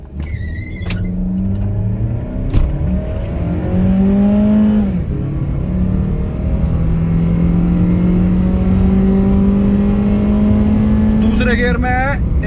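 A Honda Civic accelerates hard through the gears from a standstill, its engine note climbing steadily and dropping at each shift before climbing again, loud and close from inside the car, with a voice talking over it.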